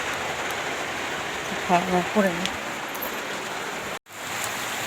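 Heavy rain pours steadily, a dense constant hiss filling the background while a person speaks briefly over it.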